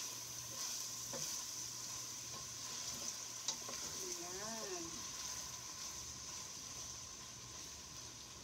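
Beef chili sizzles softly in a frying pan while a spoon stirs it, with a few scraping taps over a steady low frying hiss and a brief voice in the background.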